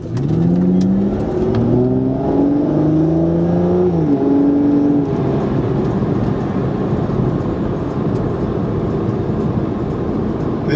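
A 2005 Aston Martin DB9 with a 6-litre V12 accelerating hard, heard from inside the car: a loud engine roar climbing through rising gear pulls with shifts around four and five seconds, then a steady strong drone.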